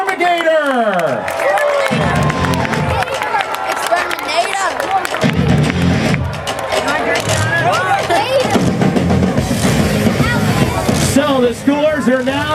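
Crowd at a monster truck event in Mt. Pleasant, Michigan cheers and claps for the Xtermigator truck, a continuous loud roar of voices over an announcer on the PA, with engine revving in the background.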